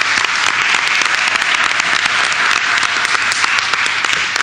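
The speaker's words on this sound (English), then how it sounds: "just another round of applause to all of our administrative support staff." An audience at a Board of Education meeting in Linden claps steadily, a dense, even wash of applause that continues throughout without pause.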